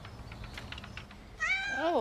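A stray cat at a shelter gives a single rising, drawn-out meow near the end while being petted, after a stretch of quiet rustling and faint background voices.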